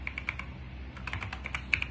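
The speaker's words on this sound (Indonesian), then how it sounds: "Lalu kita ketikkan" Fingers typing on a computer keyboard in a Windows setup, a quick run of light, irregular key clicks close up over a low background hum.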